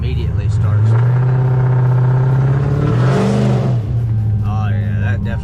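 A Dodge Charger Scat Pack's engine holds a loud, steady drone and rises in a rev while being stalled up for a launch on a residential street, with a voice briefly heard over it.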